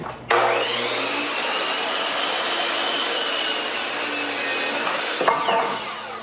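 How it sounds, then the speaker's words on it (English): A miter saw cuts 2x4 lumber to length with a loud, steady roaring whine that holds for about five seconds. It then ends with a short clunk as the blade winds down. No one speaks. "Right now, I'm getting the 2x4s cut down to the lengths that they need to be."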